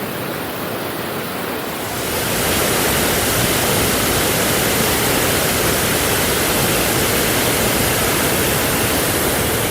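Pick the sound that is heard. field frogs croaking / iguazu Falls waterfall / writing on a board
iguazu Falls waterfall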